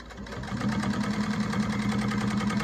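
A New-Tech GC-1541S sewing machine runs steadily and close by, a continuous motor hum with a rapid needle rhythm that starts quietly and holds level for its full length, with no voices.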